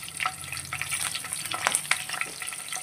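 Curry leaves sizzle in three spoons of hot oil in a pan for crab curry, quiet crackling with sharp spitting pops scattered irregularly over a soft frying hiss.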